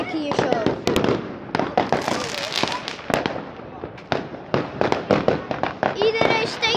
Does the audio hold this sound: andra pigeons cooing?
no